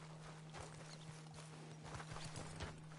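A horse in Red Dead Redemption 2 walks with repeated hoof clip-clops over a faint steady hum, quiet and close throughout.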